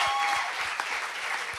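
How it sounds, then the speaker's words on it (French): A studio audience claps for a guest in a short burst of dense, even applause, continuous and fairly close throughout. "Une bonne main d'applaudissement pour Alexia."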